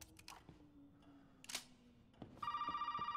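A telephone rings in the horror video game Resident Evil 7, its bright, repeating bell trill starting abruptly late in the clip after scattered clicks and thuds in a quiet room.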